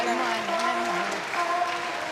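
Fans applaud at a figure skating Grand Prix event in Kazan, steady clapping from the arena crowd under music and a commentator's voice.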